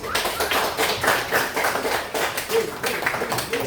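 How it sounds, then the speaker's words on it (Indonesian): A classroom of children claps in scattered, uneven applause, a steady patter of hand claps lasting several seconds at moderate distance. "yuk teman anak-anak berikan tepuk tangan untuk kelompoknya Yogi"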